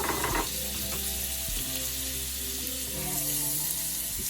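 Butter melts in a hot pan for khoya in a gajar ka halwa recipe, giving a steady, close, crackling sizzle with small bubbling pops throughout and a couple of light knocks of the pan.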